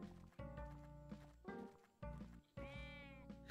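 Short bleating cries from a sheep character in the game Alpaca Stacka, repeated several times in bursts over steady background game music.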